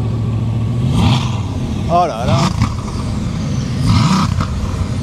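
A Bugatti Veyron's W16 engine revs in short bursts on the street in Monaco, a deep loud roar rising and falling twice, while a man's excited exclamations break in between the revs.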